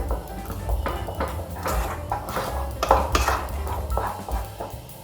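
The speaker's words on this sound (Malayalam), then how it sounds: "ഇതിൽ വല്ല കട്ട പോലെയൊക്കെ ഉണ്ടെങ്കിൽ സ്പൂൺ വെച്ചിട്ട് ഇങ്ങനെ ഒന്ന് പ്രസ് ചെയ്ത് കൊടുക്കും" A spoon scrapes and clinks against a pan while pressing lumps out of rava kesari, giving repeated close metallic taps and scraping strokes in an irregular rhythm, with a soft background hiss and no talking.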